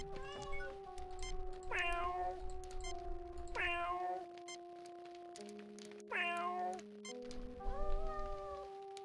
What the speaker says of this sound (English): There's like a meow baked into the background ambient sound as well.